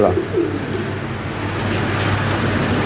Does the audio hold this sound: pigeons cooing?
yes